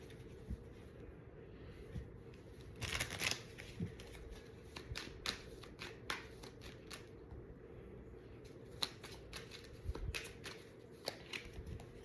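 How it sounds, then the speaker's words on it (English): Soft papery riffles and taps of tarot cards being shuffled, several bursts across the stretch over a faint steady background hum. "All right, last shuffle."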